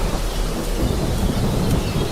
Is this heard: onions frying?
no